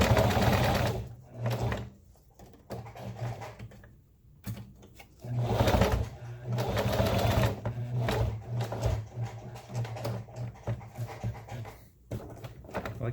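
A sewing machine stitches a DIY rappel rope bag in repeated bursts of rapid mechanical chatter separated by short pauses, close and steady, with no voices.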